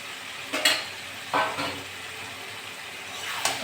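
Chicken and potatoes fry in a pan with tomato as a utensil stirs them, a soft continuous sizzle punctuated by three distinct scraping stirs, close and clear with no talking.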